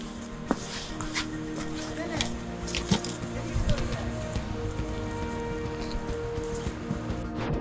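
Rain patters on a wet, slippery mountain trail on the Manimahesh Kailash Yatra route, a soft steady hiss broken by scattered drips and taps, with rustling footsteps moving through it.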